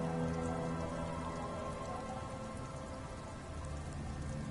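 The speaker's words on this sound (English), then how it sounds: "She looks at the rain streaming down the yellow belly of the boat." Steady rain from the Disco Elysium game pours down in a dense, even hiss across the whole stretch, with a low rumbling bed beneath it and no voices.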